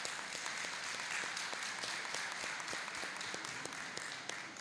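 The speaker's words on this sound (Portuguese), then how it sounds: "eu queria, assim, realmente que a gente levantasse uma salva de palmas para a Carol" An audience gives a sustained round of applause for Carol at a gathering on community territorial struggles, dense steady clapping with a few sharper near claps, and no voices over it.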